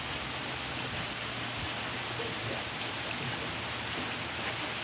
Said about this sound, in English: Now the rain's coming straight down.